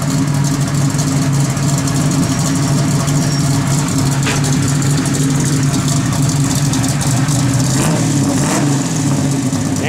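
A 1966 Chevrolet Nova SS with a lumpy cam idles up close, its steady uneven rumble running loud and continuous with faint background noise throughout.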